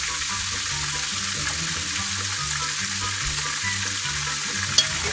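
Flour being stirred into gravy in a pan of fried pork chops gives a loud, steady sizzle and frying crackle, with scraping stirring sounds and faint low music underneath, and no voices.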